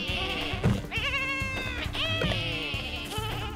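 A few wavering sheep bleats from the game Lumberhill rise over lively background music and thumps, two or three distinct cries in quick succession.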